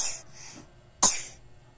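A child coughs twice, a softer cough first and then a sharper, louder one about a second later.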